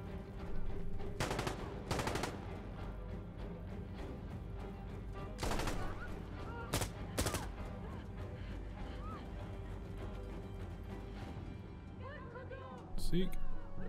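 Gunfire in Insurgency: Sandstorm, scattered loud sharp shots and short bursts spaced across the stretch, mixed with steady background ambience and a faint voice in places.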